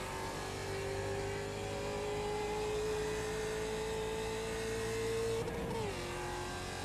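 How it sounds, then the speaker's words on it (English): A race car engine in iRacing at the Zolder circuit holds a steady, loud, high drone that climbs slowly in pitch, then drops sharply near the end as the driver lifts or shifts, with no voices. "This is a very loud car."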